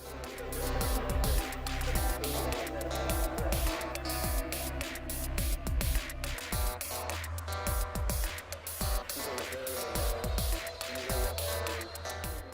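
Computer music track from the video game It's You: A Breakup Story, with synthesized tones over a steady, punchy beat that plays quietly and continuously with no talking.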